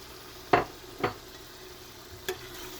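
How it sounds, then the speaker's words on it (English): A spoon stirs beans with baby carrots in a cooking pot, making three short scraping knocks spaced apart over a faint steady background hum. "Continue to stir."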